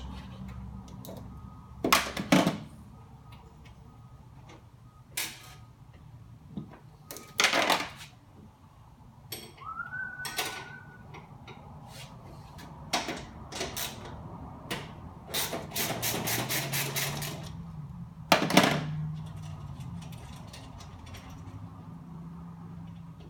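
A socket wrench spinning nuts off the bolts of an Extractomat feed roller, giving quiet ratcheting clicks and metallic taps in scattered short bursts, close by in a quiet workshop.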